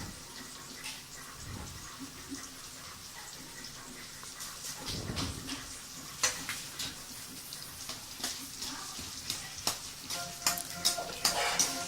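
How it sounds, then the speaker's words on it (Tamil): Whole black pepper, cumin and fennel seeds fry in hot oil as the base for a crab curry, giving a steady close sizzle with scattered sharp crackles that grow busier and louder toward the end; no one speaks. "கொஞ்சம் ஃப்ரை ஆக விடணும்."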